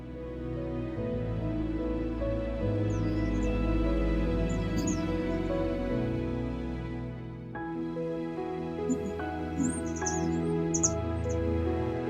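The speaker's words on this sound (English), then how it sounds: "The garden is full of hungry birds." Wild garden birds chirp on a cold winter morning in a Welsh garden, with scattered high calls and tweets over a steady low background hum, fairly faint and intermittent.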